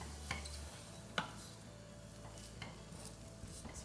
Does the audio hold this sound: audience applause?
no